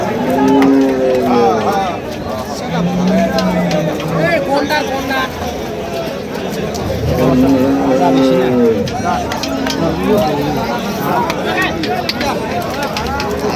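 Large bulls and cattle moo repeatedly at the Kaharol cattle haat in Bangladesh, loud overlapping lows rising above a busy crowd, with people talking throughout.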